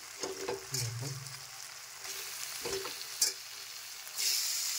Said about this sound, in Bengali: আমি যে মটনটা ধুয়ে রেখেছিলাম এখন এটা আমি মশলাটা কষিয়ে নিয়েছি, এখন দিয়ে দেবো।